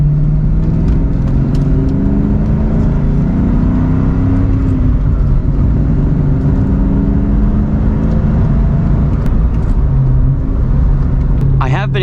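A Ford Mustang Cobra drives twisty roads, its engine a loud, steady low rumble with rising and falling revs through shifts, while someone talks over it.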